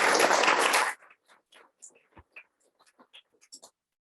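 A short burst of applause from a conference keynote audience, about one second long, cuts off abruptly and is followed by quiet speech.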